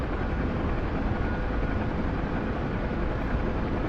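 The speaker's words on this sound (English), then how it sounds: "Because that's what it would actually sound like if you're in a helicopter, right?" Helicopter cabin noise in a flight video game, a steady, dense rotor and engine drone that continues evenly throughout at moderate level with no talking.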